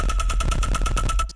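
A sub bass synth tone run through a high-cut filter and a waveshaper, heard as a loud, low, gritty buzz pulsing in a fast, even rhythm for just over a second, then cutting off.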